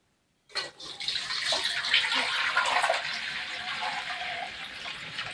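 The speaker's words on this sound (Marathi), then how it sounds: "आता आपण हे पाणी काढून घ्यायचे" Water pours out of a large basin of soaked lentils through a sieve, a steady close gushing and splashing that starts suddenly and continues without talk.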